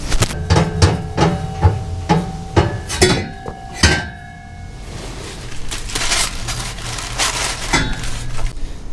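A RAM 1500 factory dual exhaust muffler being wiggled off its hanger gives a series of sharp metallic clanks and knocks, close and loud at first, then fading to a low rumble with occasional faint clinks.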